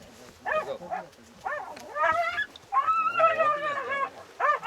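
A hunting dog barks during a beaver hunt outdoors, several close, strained barks and yelps in uneven bursts.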